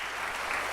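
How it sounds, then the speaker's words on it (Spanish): Applause at a political talk, a brief dense burst of many hands clapping that lasts under a second. "Un aplauso por esa contribución que también nos hizo"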